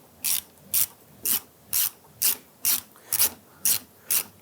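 Socket ratchet working on 10mm nuts holding a side mirror to a 1999-2004 Jeep Grand Cherokee door, heard as nine evenly spaced, crisp ratcheting bursts about half a second apart, close to the microphone with no talking.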